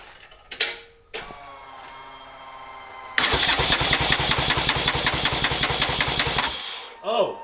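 A Turbo 660 lawn mower engine cranks on a booster pack: a steady, rapid, even chugging of the starter turning it over for about three seconds, loud and close, after some brief clatter at the start and before a short burst at the end.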